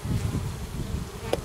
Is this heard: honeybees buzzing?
yes